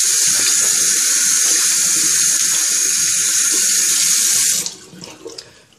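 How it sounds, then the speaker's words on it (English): Steady, loud tap water runs and splashes over hands being washed in a sink, then cuts off near the end, leaving soft drips and rubbing. "wash my hands a little bit"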